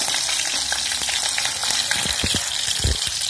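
Chopped garlic and fenugreek fry in hot oil for a bilimbi pickle, giving a dense close sizzle with a few soft knocks of a wooden spoon stirring the pan, no voices.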